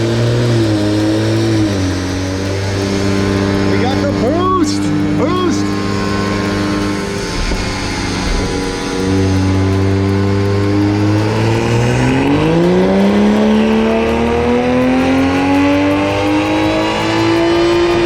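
A boosted car running race gas revs on a dyno, its engine droning loudly and close, pitch climbing through repeated pulls with dips between, while voices talk over the roar.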